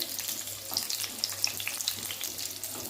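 Large onion petals frying in oil in a pan, a close crackling sizzle with scattered sharp pops that stays fairly even throughout, no voices.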